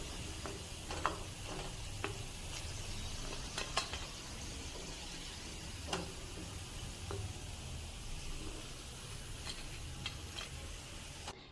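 Onion pakodi fritters frying in hot oil, a steady close sizzle and bubbling that runs throughout with scattered small pops and crackles, and no talking.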